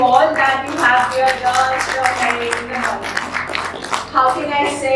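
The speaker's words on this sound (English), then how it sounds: "big round of applause to you all that you have here" Applause at an Asian Cities Summit session on India's urban transformation, scattered hand clapping mixed with voices talking over it, fairly loud and uneven across five seconds.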